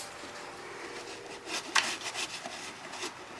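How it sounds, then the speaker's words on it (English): Scraping old intake gasket material off the engine of a 2002 Ford Taurus, faint rasping strokes that grow into a few sharper scrapes midway, close and quiet with no talk. "Remove the old gasket material"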